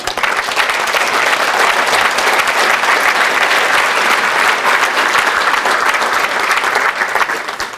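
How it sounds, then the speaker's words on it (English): A large audience claps loudly and continuously, a dense, even roar of applause that holds steady for several seconds before starting to thin. "Let's give John a round of applause"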